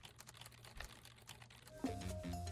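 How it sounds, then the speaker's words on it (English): Rapid light clicking of keys on a computer keyboard, quiet and close, in an uneven typing rhythm that gives way to a soft tonal hum near the end. "Oh my god, you can type on your keyboard."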